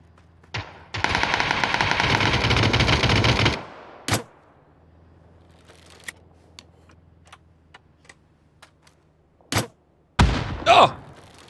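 Gunshots in PUBG: a long loud burst of rapid automatic fire for a couple of seconds, then scattered single cracks, some faint and distant, and a few sharp nearer shots near the end.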